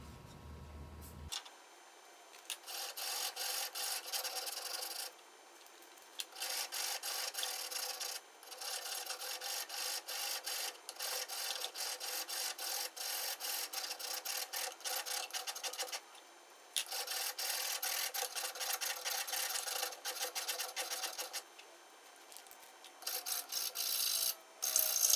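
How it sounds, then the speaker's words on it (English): Sandpaper rubbing along a wooden dowel in rhythmic, close rasping strokes, grouped in runs of steady scratching broken by brief pauses. "after we sand the dowel, so that it can fit in our leg assembly"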